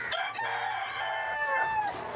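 A rooster crows once, a long drawn-out call, loud and close, with no other sounds around it.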